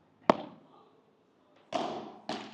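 Ball struck during a training session, three sharp impacts: one near the start, then two more close together after a pause, each with a short ringing decay, no talk.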